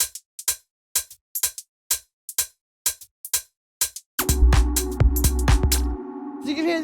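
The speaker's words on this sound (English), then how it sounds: "it's actually just 3 different hi-hats here" Three different hi-hats layered together in a Romanian minimal house groove: steady crisp ticks, then a dense, loud full mix with a low bass drone and busy percussion joins halfway through.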